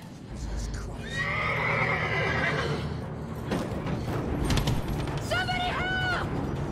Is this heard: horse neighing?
yes